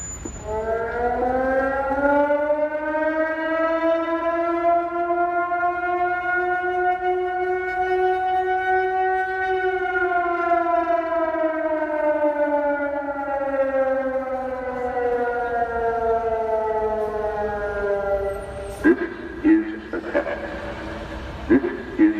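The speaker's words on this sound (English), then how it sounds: "they still use air horn sirens to indicate when there is an emergency happening" An outdoor emergency warning air horn siren wails long and rises, holding a steady, harmonic tone for many seconds, then cuts off abruptly with a few clunks and thumps.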